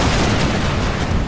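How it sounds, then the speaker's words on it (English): Wooden warships fire their naval cannons at the Battle of Trafalgar in 1805, a dense, continuous thunder of booming blasts that stays loud and close the whole time. "Guns thunder in the choking air."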